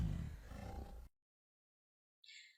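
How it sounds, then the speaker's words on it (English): A lion gives one loud, deep roar lasting about a second, which then cuts off into silence. A short, thin, high-pitched sound follows. "Did you hear that lion roar?"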